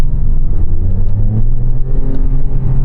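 A Porsche Cayman R with a 3.6 liter flat six engine runs loud and close, a steady deep drone with slight rises in pitch as it pulls, no voices.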